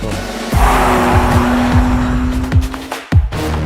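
A BMW M3 G80 test car drives hard on the Nürburgring Nordschleife, its engine droning steadily with a sustained tone, tires squealing, and sharp thuds and bumps over the track, close and loud with no talking.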